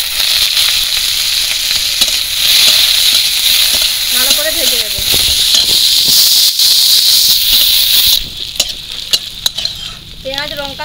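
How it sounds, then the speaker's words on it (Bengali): Chopped onions fry in hot oil with dried red chilli, five-spice seeds, whole cumin and a slit green chilli, giving a loud steady sizzle with occasional stirring scrapes. "পেঁয়াজ কুচি ভালো করে ভেজে নেব"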